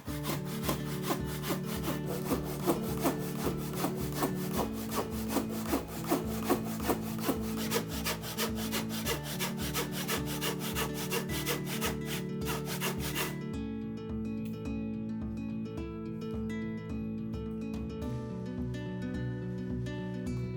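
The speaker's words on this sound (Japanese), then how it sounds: "感覚で全部勾配に切っていきます" Japanese handsaw cutting angled strokes into old Kiso hinoki, a steady close rasp of rapid strokes that drops abruptly quieter partway through, with no talking.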